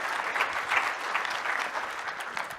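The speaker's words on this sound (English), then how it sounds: "Big round of applause." Steady applause from an audience, many hands clapping at an even level throughout.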